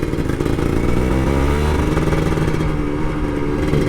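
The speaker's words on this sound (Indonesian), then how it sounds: "Karena gue mau gas Ninja gue." A Kawasaki Ninja RR 150 two-stroke motorcycle revs loudly nearby on a Jakarta street, a buzzing, crackling engine note that rises and holds for a few seconds without speech.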